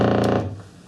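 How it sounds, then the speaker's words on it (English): A short, harsh electrical buzz from a television picture tube, with dense harmonics, fading after a fraction of a second, with a brief burst returning at the end. "And then this is the sound of the picture tube."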